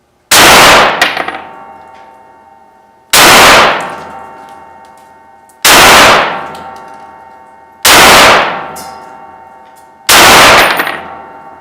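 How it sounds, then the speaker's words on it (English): Five loud, evenly spaced rifle shots of .308 M80 ball from an 18-inch Kel-Tec RFB fired at ballistic gel about 20 feet away, each a sharp crack followed by a long ringing decay, with no talking. "now we're going to do 5 more rounds of 308 M80 ball out of an 18-inch Kel-Tec RFB"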